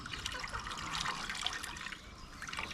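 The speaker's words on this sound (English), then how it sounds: "I'm going to pour water, running water like that" Water poured by hand in an outdoor Kenyan village setting while cleaning fresh papaya and herbs for a homemade remedy, a steady trickling, splashing flow that runs continuously and fairly quietly, with no talk over it.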